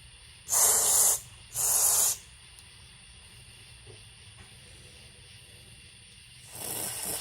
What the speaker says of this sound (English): So you want to spray in all these little holes and ports